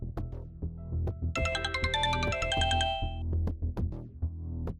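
A phone ringtone plays a bright melodic tone pattern for a couple of seconds over steady low background sound.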